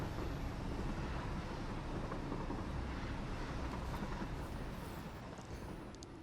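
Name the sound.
train arriving in the video game Satisfactory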